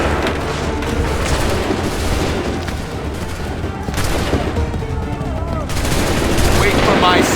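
A musket volley in Assassin's Creed 3, with dense overlapping gunfire and booms spread over several seconds amid loud battle din, mixed with shouting voices.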